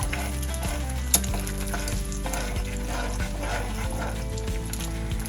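Egg fried rice sizzles in a pan and is stirred and tossed with a spatula, giving a close, steady frying hiss with scraping strokes and one sharp clank, with no speech.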